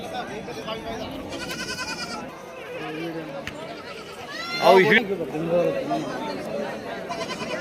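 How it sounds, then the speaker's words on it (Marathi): Goats and young bucks bleating at a busy livestock market in Shirur, Pune district, several close bleats over crowd chatter and people talking. "चला बोकडे बोकडे पहा चांगले पिल्ले आहेत"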